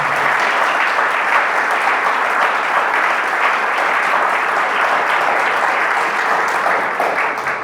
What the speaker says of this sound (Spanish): Dale un aplauso a esa palabra.